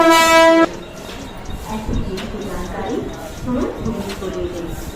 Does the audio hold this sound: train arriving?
yes